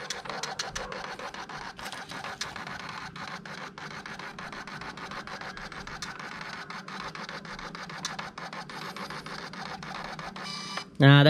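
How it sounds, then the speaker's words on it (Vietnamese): A PT210 thermal printer runs off a sales receipt with a continuous close whirring buzz broken by rapid ticking, ending in a short louder burst. "Mình sẽ lấy một cái in cái đơn cũ mình in thử cho các bạn xem nha"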